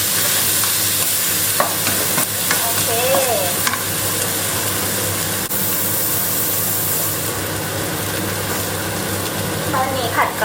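Holy basil and naem, Thai fermented pork sausage, being stir-fried in a pan: loud, close sizzling with scraping and stirring, briefly under a few faint, short bits of a voice.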